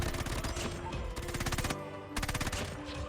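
BP50 gunfire in the COD Mobile video game rattles in rapid automatic bursts, dense and loud, with a brief pause before the firing resumes.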